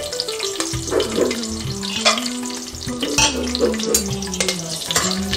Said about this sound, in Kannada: ಶೇಂಗಾ ಬೀಜ ಮತ್ತು ಗೋಡಂಬಿ ಹಾಕಿ ಸ್ವಲ್ಪ ಫ್ರೈ ಮಾಡ್ಕೊಳ್ಳೋಣ